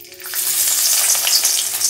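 Loud, steady sizzling of garlic, cumin and jakhiya frying in hot oil for a tadka, a continuous bright crackle with no voices.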